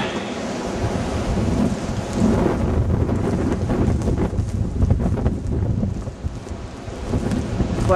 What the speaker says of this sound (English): There's some sleet coming in.